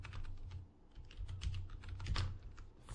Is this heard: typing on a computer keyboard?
yes